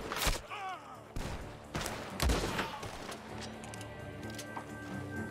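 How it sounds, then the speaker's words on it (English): Red Dead Redemption 2 gunfire: several sharp shots crack out in quick bursts from a barn, mixed with other game effects and a short electronic chirp. "Gunshots are coming from that barn."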